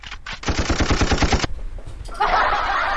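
A rapid burst of automatic gunfire, about a dozen sharp shots in even quick succession, then a pause and a steady hissing noise, with no talk.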